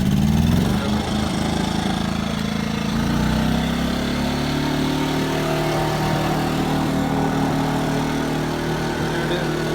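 A WEN 2350-watt inverter generator runs at full throttle, giving a loud, steady engine drone close up that barely changes throughout, with no voices.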